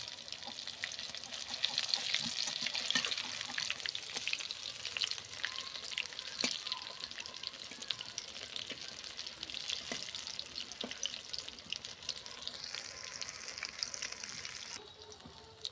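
Cauliflower pakoras deep frying in hot oil, a steady bright sizzle and crackle running the whole time with occasional stirring clinks, close and fairly loud, no talking.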